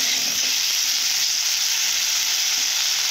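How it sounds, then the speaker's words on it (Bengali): Taro pieces frying in a pan with just salt, making a dense, even hiss of sizzling oil that holds steady and loud throughout at close range, with no talking. "কচুগুলোকে ভালো করে ভেজে নেব"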